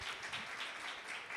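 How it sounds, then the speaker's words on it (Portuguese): Congregation applauding to welcome a pastor at a church gathering: a dense, steady wash of many hands clapping at moderate distance, continuous throughout without voices. "Você pode receber esse homem de Deus com a salva de palmas"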